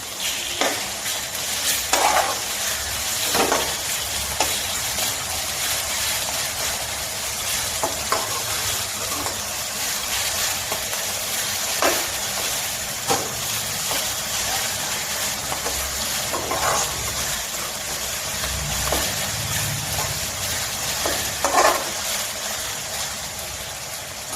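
Ginger and shallot paste stir-frying in a pan for egg fried rice: a steady close sizzle with repeated scrapes and clacks of a spatula every second or two, and no voices.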